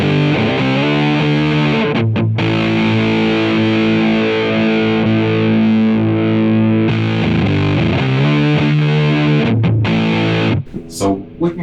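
Electric guitar runs through a distortion effects pedal built on a breadboard, playing sustained chords loudly and continuously with a few short breaks in the tone.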